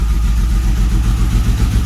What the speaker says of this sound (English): She's idling at just under 900 RPM